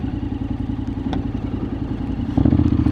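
A Honda X-ADV 750 motorcycle riding through mud, its engine chugging in a steady pulsing rhythm up close, with a brief clatter and a louder surge of revs near the end.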